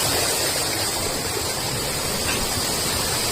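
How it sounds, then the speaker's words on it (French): Waterfall at a water mill in Georgia, a loud, dense, continuous rushing roar filling the whole moment without pause. "là c'est la chute d'eau du moulin."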